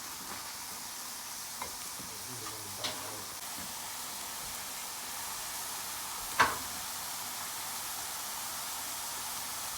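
Asparagus, mushroom, garlic and purple onion stir-frying in a pan, a steady soft sizzle and hiss throughout with a few light scrapes and one sharp clink partway through.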